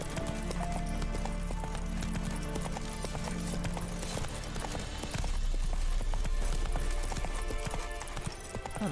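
Roach, the horse in The Witcher 3, gallops with loud, close, rapid hoof clip-clops over game ambience, and the pace grows more intense partway through.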